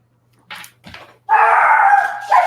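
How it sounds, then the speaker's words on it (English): Small yappy dogs let out a couple of short yips, then a sustained loud, high-pitched howling bark close by, with another yelp at the end, indoors and without talk. "Let me get the dogs out of here so they don't bark."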